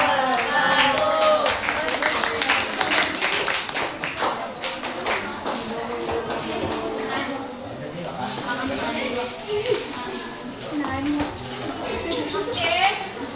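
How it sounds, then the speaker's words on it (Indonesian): A school classroom of students claps after a presentation, scattered hand claps and lively voices filling the room, with chatter and children's shouts running throughout. "Bari aplaus."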